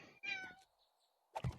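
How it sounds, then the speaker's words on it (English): A pet house cat giving a short meow, fairly faint and close, followed by a brief pause and a soft thump. "You'll have to excuse the stupid cat if you can hear that."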